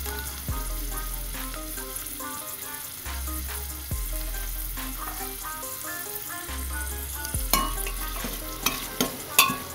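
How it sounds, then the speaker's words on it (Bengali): Chopped onion fries in a pan with a continuous hiss, while a spoon or spatula strikes and scrapes the pan at irregular intervals. The knocks grow louder toward the end, over a low tonal background. "আমি পেঁয়াজ কুচিটা দিয়ে দিলাম। এটাকে ভালো করে ফ্রাই করে নিতে হবে আমাদেরকে।"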